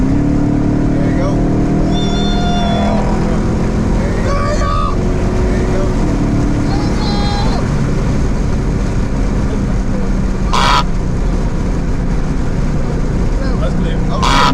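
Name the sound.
modded Chrysler 300 car engine revving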